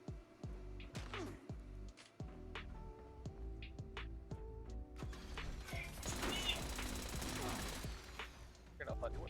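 Enemy gunfire in Fallout 76, rapid bursts of shots and sharp impacts hitting the player, fairly faint and scattered, with someone talking over parts of it.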